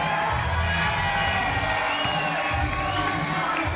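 Boxing arena crowd applauding and cheering loudly and steadily for Aaron Prospere at a close fight against Marley Mason, a dense wash of clapping and shouts throughout with no pauses.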